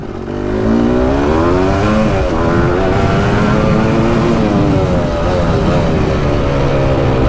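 A Suzuki LT500 quad is opened up on a rough ride, its engine revving loud and close in a sustained, rising buzz with rattling clatter underneath.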